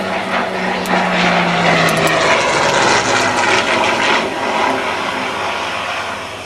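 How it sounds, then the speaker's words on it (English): A Hawker Hurricane's piston engine drones loudly overhead at an air fair, a rich propeller roar that sweeps past and slowly fades while staying strong throughout. "The beautiful sound of that engine."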